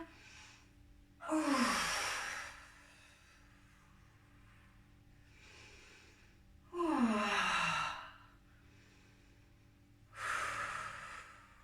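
Three deep, slow breaths drawn and released during a yoga session, each a loud airy sigh lasting about a second or two, spaced several seconds apart with quiet between them.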